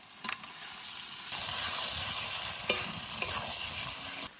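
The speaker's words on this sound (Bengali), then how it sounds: "পাকস্থলী একটু ভেজে নেবো" Chicken stomach frying in a pan with ginger, garlic, onion and green chilli, a steady close sizzle with occasional scraping stirs and clinks of the spatula.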